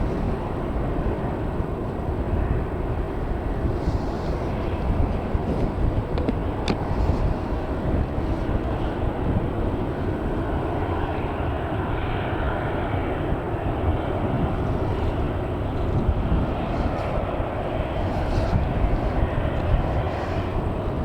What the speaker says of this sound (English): decouples, and then the plane begins its taxi.